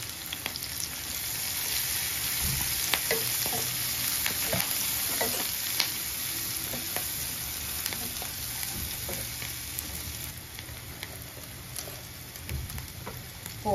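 Tempering spices, turmeric and curry leaves fry in hot oil for a bitter gourd and tomato curry, a steady close sizzle with scattered pops and crackles plus occasional stirring scrapes, no voices heard.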